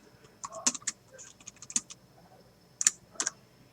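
Mouse clicks at a computer while printing a spreadsheet, a few sharp close clicks spaced irregularly with soft handling noise between them.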